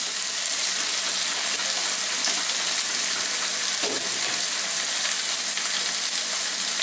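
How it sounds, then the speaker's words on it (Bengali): Chopped onions frying in a pan on a stove with chicken, a dense, loud, continuous sizzle holding steady for the whole stretch, close up and without any talk. "দিয়ে আবার একটু ভেজে নেবো পেঁয়াজটাকে আর কি, নরম হওয়া পর্যন্ত"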